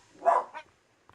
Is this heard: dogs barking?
yes